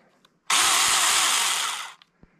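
A small Saker chainsaw revs up loudly for about a second and a half, then winds down and cuts out, with near silence on either side.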